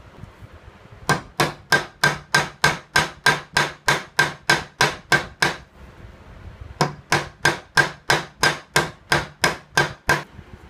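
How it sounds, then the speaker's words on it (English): A hammer peens metal pins set in a wooden knife handle: fast, evenly spaced, ringing taps close up, a steady run of about a dozen blows, a short pause, then another equally regular run. "Now for peening the pins in the knife, you have to be extremely careful."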